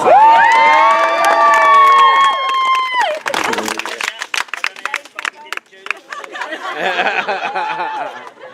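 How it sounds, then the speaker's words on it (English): A small crowd cheers and whoops for a couple married 30 years, loud sustained voices giving way to a burst of close hand clapping and then lively chatter and laughter. "I think we need to give Julie and Mikey a fucking round of applause."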